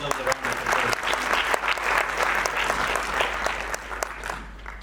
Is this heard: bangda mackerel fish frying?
no